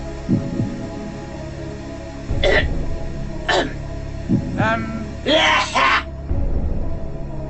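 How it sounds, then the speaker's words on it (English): Several rough coughs and throat-clearing bursts from a game show studio come in short separate fits over a low, steady hum. "Nasty cough, I'm afraid."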